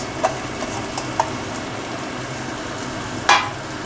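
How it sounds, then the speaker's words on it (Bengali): Baby corn and vegetables coated in soy, chilli and tomato sauce stir-fried over a high flame, a steady low sizzle with a few sharp spatula clinks against the pan. "এবারে ভালো করে এই সসের সাথে ভালোভাবে কিন্তু সবজিগুলো সুন্দরভাবে একটু কষিয়ে নিতে হবে গ্যাস কিন্তু কমানো যাবে না হাই ফ্লেমে রাখতে হবে"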